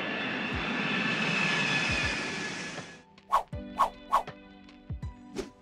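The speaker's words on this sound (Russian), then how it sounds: "А теперь пристегните ремни безопасности, мы взлетаем." A Boeing C-17 Globemaster heavy military transport jet takes off with a loud, steady engine roar for about three seconds that then cuts away, followed by several short, sharp bursts.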